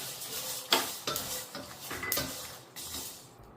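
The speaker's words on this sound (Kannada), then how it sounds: "ಈ 1 ಕೊಬ್ಬರಿನ ಸತ ಇದರಲ್ಲಿ ಹಾಕ್ಕೊಂಡು ಹುರ್ಕೊಳ್ಳೋಣ." Dried coconut, coriander seeds and chili being dry-roasted in a pan, with a spatula making repeated scraping, stirring strokes against the metal and a faint sizzle between them.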